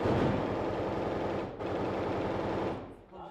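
Sustained automatic gunfire rattles in rapid bursts during an ISIS attack on a house in Mosul, dense and continuous with a brief gap before firing resumes and then fades.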